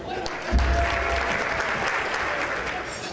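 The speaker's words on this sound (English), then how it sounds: "And gentlemen, make some noise for Jorge" A dense wash of applause from a large crowd at a Moulin Rouge-themed gala evening, steady and loud throughout the short clip.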